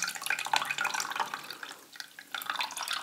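Water drips and trickles off boiled fishing bait pellets as they drain, a close, steady patter of splashing drops with no talk.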